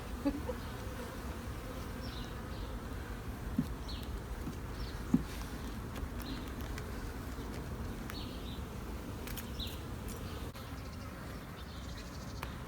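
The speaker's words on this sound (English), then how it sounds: "I feel so small next to these bees." Dense, continuous buzzing of many bees swarming close around a hive, with occasional sharper clicks and bumps over the droning hum.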